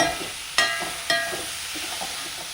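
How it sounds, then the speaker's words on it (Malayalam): Tomatoes cooking down in a pan for paneer roast, stirred with a utensil: a soft steady sizzle with a few sharp scrapes and clinks of the spoon against the pan, close and alone. "തക്കാളി ഒന്ന് വെന്ത് ഉടഞ്ഞ് വരുന്നത് വരെ നമ്മളത് ഇളക്കി കൊടുക്കാം"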